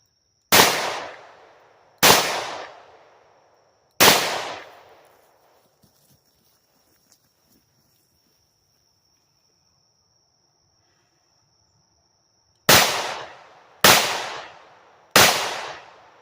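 Six loud, close revolver shots from a Taurus 856 and a Smith & Wesson Model 64 at an outdoor range, three evenly spaced, a long quiet gap, then three more, each with a sharp crack and decaying echo.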